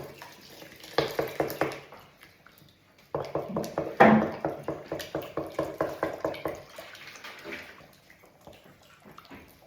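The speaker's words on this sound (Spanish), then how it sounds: "Y ahora le vamos añadiendo agua." Water poured into filloas batter in a kitchen, heard as bursts of splashing and pouring with rhythmic stirring or mixing, close and moderately loud, coming in separate runs with short pauses between them.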